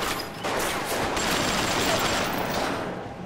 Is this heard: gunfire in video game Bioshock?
yes